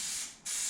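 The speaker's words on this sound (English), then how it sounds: "So a bit of spray glue." Heavy-duty carpet spray glue hisses out of an aerosol can in two close, steady bursts separated by a brief pause.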